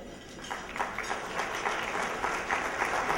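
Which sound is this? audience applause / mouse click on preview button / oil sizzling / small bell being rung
audience applause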